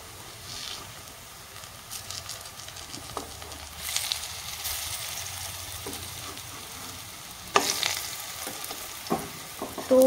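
Coconut biscuit pitha fries in hot oil with a soft, steady sizzle. Occasional brighter crackles and pops rise above it, heard up close.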